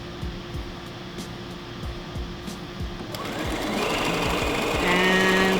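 Sewing machine stitching a fabric face mask, a rapid mechanical thumping and whir that pauses briefly then speeds up into a louder, steadier run, heard close up without talk.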